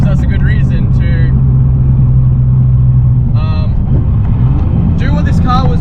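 Cabin view of a 500 HP RB26-engined Nissan S15 on a mountain run, its engine droning loud and steady throughout with a strong low hum, while voices chatter and chirp over it in short bursts.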